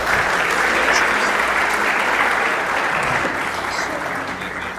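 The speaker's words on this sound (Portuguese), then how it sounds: "Palmas para as cobaias," Applause from a church congregation during a worship service, a dense steady clatter of many hands that holds loud throughout and tapers slightly toward the end, with no talking over it.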